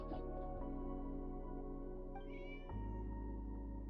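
A cat in Genshin Impact meows in a drawn-out, tonal call over a steady, loud electronic background hum.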